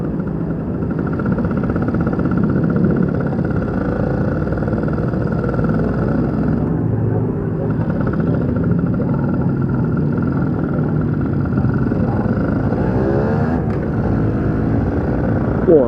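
A motorcycle cruises along a road in a steady, continuous engine drone with wind rush, heard from the rider's position, with a rider's voice talking over it at times.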